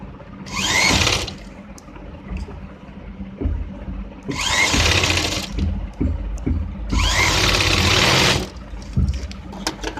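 A sewing machine stitching a patti paan neck design on a blouse, running in three loud close bursts of rapid whirring with short quieter pauses between them.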